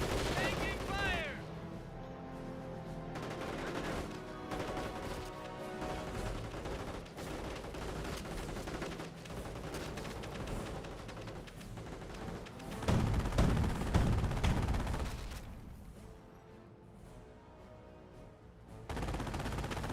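Rapid bursts of gunfire and machine-gun fire from the World War II strategy game Company of Heroes, dense and continuous with a heavier booming stretch near the end, mixed under a commentator's talk.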